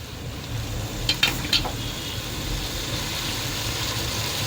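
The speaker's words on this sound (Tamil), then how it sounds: "வதக்கி விடுங்க, நல்லா வதங்க" Vegetables sizzle and hiss steadily in a hot pan while being sautéed with salt for a vegetable biryani. A few brief clinks of a utensil against the pan rise over the continuous frying noise, and no one speaks.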